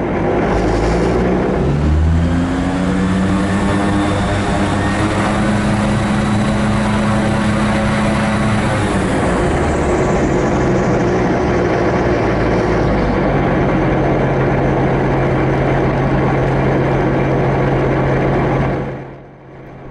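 The engine of the Raptor prototype aircraft drones loudly and continuously as it taxis on the ground, its pitch shifting as it moves, before it cuts off abruptly at the end. No voices are heard.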